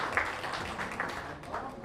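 Audience applause at a Bhojpuri stage event, a brief steady wash of clapping from a crowd, moderately distant and blended with background voices.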